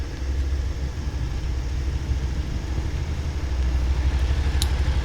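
Motorcycle engine running at slow speed during rider training while the clutch is worked in and out, a low, steady rumble that swells slightly toward the end, heard from close by with no voices.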